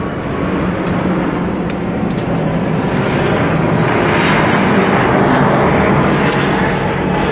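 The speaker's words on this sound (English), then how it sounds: "We're very close to the airport, as you can hear." A jet airplane flies low overhead close to an airport, a loud, steady roar that fills the whole stretch and swells slightly toward the end.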